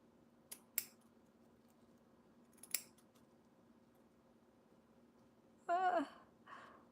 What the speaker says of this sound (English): I am going to snip it just a little bit more